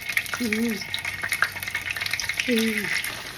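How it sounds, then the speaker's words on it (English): Slices of Vietnamese rice cake fry slowly in oil with a steady close crackling sizzle, while a voice briefly murmurs twice underneath. "once you fry this like slowly, just so it can get that golden brown, then we flip it"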